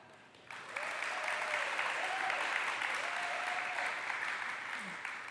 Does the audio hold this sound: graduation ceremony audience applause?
yes